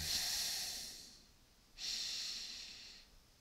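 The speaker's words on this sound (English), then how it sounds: "let's begin to just take a deep breath in" Slow, deep breathing, one long airy inhale followed after a short pause by a long exhale, close and fairly soft with no talking.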